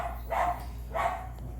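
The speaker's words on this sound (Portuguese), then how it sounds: "ignore os cachorros que estão latindo" Dogs bark twice in the background, a pair of moderately loud barks about half a second apart over a steady low hum.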